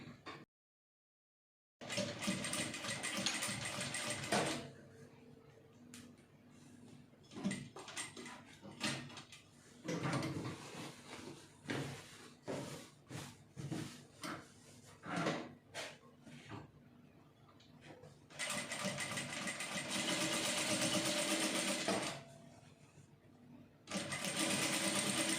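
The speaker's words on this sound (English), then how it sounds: "So let me quickly sew that up." A domestic sewing machine stitches a single welt pocket in several bursts of steady mechanical whirring, separated by short pauses and small handling clicks, fairly close and loud with no talking.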